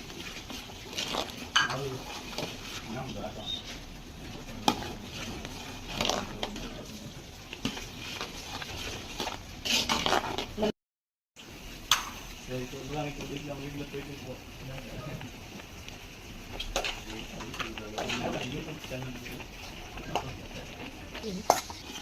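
A spoon stirring almond powder into cooked rice in a pot for a sweet meetha dish, with irregular scraping and clinking against metal, close by, under a low sizzle.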